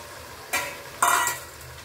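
Chopped vegetables and green peas stirred in a hot pan for a vegan biryani, two short scraping stirs over a faint background sizzle, close and alone.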